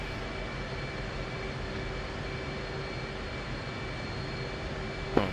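F/A-18C Hornet and F-16 jet engines in the DCS flight game produce a steady, even roar, moderately quiet and unbroken, ending in a short sharp click; no one speaks.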